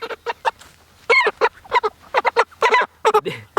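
Broiler chickens cluck and squawk in quick, irregular bursts at close range, loud calls separated by short gaps of near silence.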